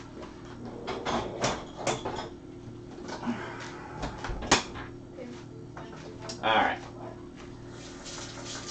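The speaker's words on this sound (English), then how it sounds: "You can hear him scratching at the door" Intermittent scratchy rasps of a cat clawing at a door come in short bursts, with a person speaking quietly nearby.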